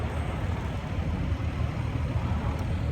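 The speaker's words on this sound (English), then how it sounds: "Listen to these cars whizzing by" Steady roadside traffic noise, a continuous low rumble of cars passing close by with no breaks, fairly loud and with no voices.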